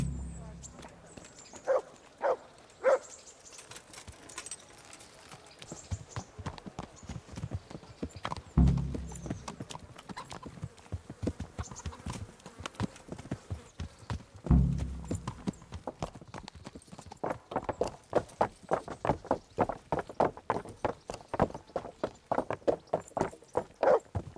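Steady hoof clip-clops from a dappled gray horse in the video game Kingdom Come: Deliverance, rhythmic and fairly close, with a brief whinny early on and some faint voices in the background.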